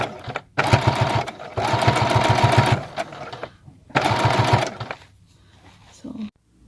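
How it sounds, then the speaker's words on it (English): A sewing machine stitches along the bottom of a hem on a fabric bin in two loud, rapid bursts separated by pauses, with a faint sound of the fabric being handled afterward. "I'm making sure that I'm sewing on the bottom part of this hem"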